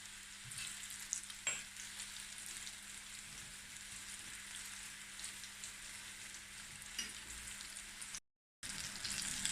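Breaded okra frying in hot oil, a steady soft sizzle and crackle close by with a faint background hum, occasional stirring clinks, and a brief dropout near the end.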